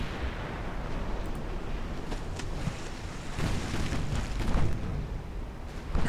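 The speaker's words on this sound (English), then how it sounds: "There's another torpedo hit." Deep, booming torpedo hit explosions in the naval warfare game Ultimate Admiral: Dreadnoughts, a continuous loud rumble with heavier blasts rolling in partway through and near the end.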